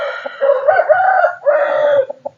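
A fighting rooster crows loudly and close by, two long drawn-out calls in quick succession, with a few short clucks trailing at the end.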